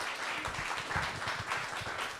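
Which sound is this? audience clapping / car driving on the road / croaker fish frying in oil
audience clapping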